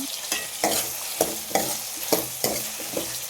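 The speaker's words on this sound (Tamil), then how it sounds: "அதெல்லாம் நல்லா கொஞ்சம் நல்லா டீப் ஃப்ரை பண்ணிக்கோங்க" Tomato, curry leaves and grated coconut deep frying in hot oil for mutton paya, a steady close sizzle broken by repeated stirring scrapes at a fairly even rhythm, with no talk.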